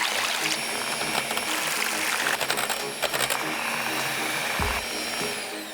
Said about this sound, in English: Let's whisk the eggs until they're super fluffy and foamy.